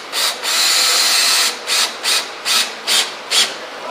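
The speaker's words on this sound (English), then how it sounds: "So this is my final screw. I'll countersunk it, and now I'm getting ready to install it." Drill driving a countersunk screw into an antique dining table, a long sustained burst followed by a series of short repeated bursts, close and loud.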